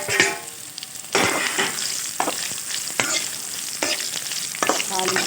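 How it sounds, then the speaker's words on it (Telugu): Bitter gourd pieces tipped into hot oil crackling with tempering seeds, a loud close sizzle and frying hiss with scrapes of stirring, no talk. "ఇప్పుడు మనం కాకరకాయలు వేసేసుకుందాం."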